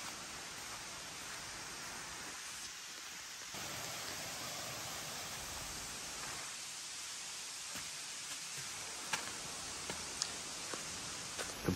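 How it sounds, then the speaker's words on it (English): Steady rushing water roars continuously from a nearby waterfall at Hocking Hills State Park, with a few faint clicks and footsteps over the constant wash. "Sounds like there's another waterfall over here."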